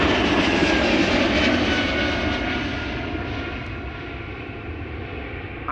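A fixed-wing airliner arriving at Amsterdam Schiphol Airport on a Sunday morning, its engine roar loud and steady at first, then slowly fading as it passes, with no voices.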